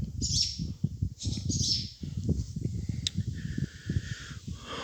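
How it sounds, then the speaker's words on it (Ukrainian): Swallows chirp in high, brief tweets over an abandoned, overgrown outdoor stage area, with steady low rumbling noise underneath throughout. "Ластівки літають."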